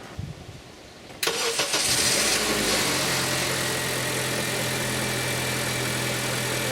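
After a second of near silence, a Honda Civic EX eighth-generation engine cranks and catches with a sharp burst, then settles into a steady, close idle hum.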